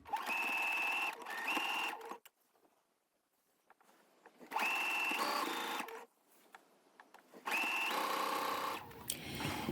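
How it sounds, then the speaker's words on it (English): A sewing machine stitching ric rac onto a fabric hem runs in three close, loud bursts of rapid whirring and clattering, separated by short quiet pauses. "I think I'm going to be quite happy just sewing on the machine as I go."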